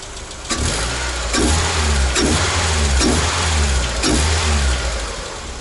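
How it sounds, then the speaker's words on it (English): A Mazda MX-5 NA Miata engine running smoothly after new spark plugs and spark plug wires, a loud steady idle close by with a few light revs rising and falling, with no talking. "The engine is running fine again, so replacing the spark plugs and spark plug wires was the solution."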